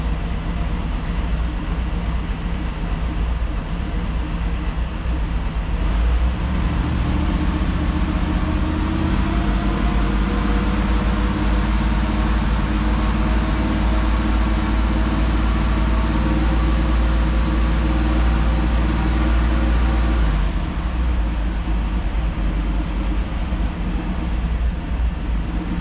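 A Chevy Tahoe engine that is burning coolant idles and runs steadily, a loud, continuous low rumble close by with no pauses.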